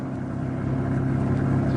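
A car pulls in to park, its engine a steady low idling hum with a faint rhythmic throb, close and even, with no voices.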